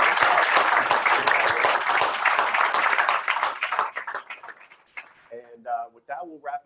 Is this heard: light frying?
no